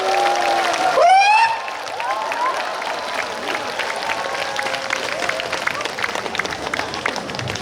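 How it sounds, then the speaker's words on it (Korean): An audience at a Buddhist lecture event applauds to welcome a monk speaker, a steady wash of clapping from the crowd that follows a brief whistling electronic tone. "큰 박수 환영해 주시기 바랍니다."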